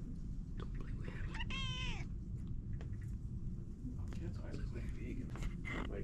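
A black cat lets out a single drawn-out meow, close and fairly clear, amid low background rumble and quiet murmuring voices.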